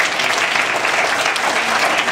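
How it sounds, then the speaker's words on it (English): A crowd of parents and members at a martial arts black belt grading claps in a dense, steady round of applause, loud and close throughout the short burst. "Let's give all our parents a round of applause,"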